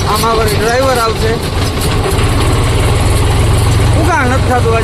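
A tractor engine idling on a farm, a loud, close, steady low rumble running throughout, with a wavering whine or horn-like tone rising over it near the start and again near the end.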